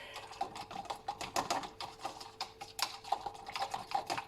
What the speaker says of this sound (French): fouetter en même temps